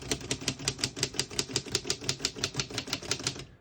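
Typing on a 1930 Royal Companion portable typewriter: a steady, rapid run of crisp key strikes at an even rhythm, close and clear with no voices.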